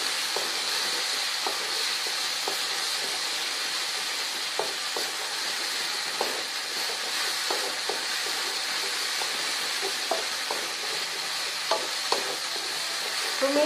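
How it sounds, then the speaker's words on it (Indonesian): Food stir-fried in a pan for guteng nyemek, a steady broadband sizzle with repeated soft scrapes of a spatula across the pan, close and continuous throughout. "Tumis sampai harum"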